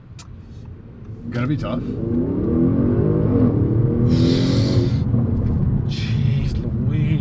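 An Audi S6 launches hard with launch control, its engine swelling into a loud, sustained rumbling roar that builds and holds while someone talks briefly over it.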